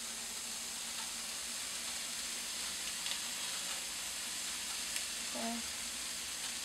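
Crumbled Jimmy Dean sage sausage frying in a pan gives a steady, quiet sizzle and hiss throughout, with a brief spoken word near the end.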